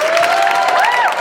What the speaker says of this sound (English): Please join me in applauding the great talent of Greg Jackson.